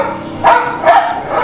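A dog gives two close, loud barks about half a second apart, each with a short whining edge.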